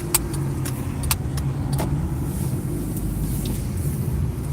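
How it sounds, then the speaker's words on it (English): Car driving down a mountain road in the Catskill Mountains, a steady low engine and road rumble heard from inside the vehicle, with a few faint clicks and rattles over the top. "I figured it'd be a good opportunity to do a live drive"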